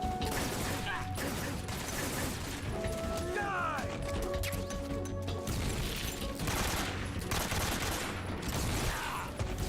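Gunfire and clanking weapon mechanisms in the video game Metal Gear Solid 3, bursts of shots and metallic clicks running through the whole stretch under a player's talk and game sounds.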